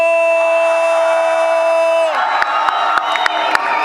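A crowd at a boxing fan Q&A with Jake Paul and Eddie Hearn cheers and roars loudly and steadily, with scattered sharp whoops and shouts cutting through the din in the second half.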